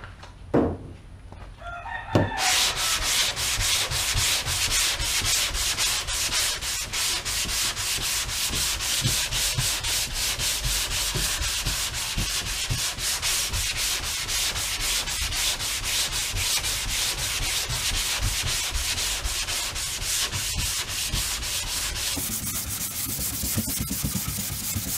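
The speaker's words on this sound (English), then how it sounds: "I'm gonna start doing that sanding on a cross pattern motion, making sure that everything gets sanded" Car body being sanded by hand with 180-grit sandpaper in a cross-hatch pattern to prep for black paint: after a brief start, a continuous close, rasping scrubbing that runs steadily with no talk.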